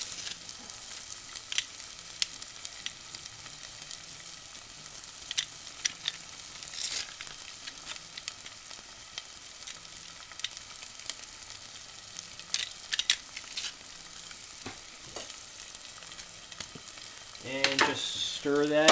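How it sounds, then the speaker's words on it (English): Pressed garlic sautéing in a pan, a soft continuous sizzle with scattered faint ticks and pops, a few louder clatters of utensils near the end. "And just stir that in, let that bloom a little bit. And while we're waiting for that to saute up"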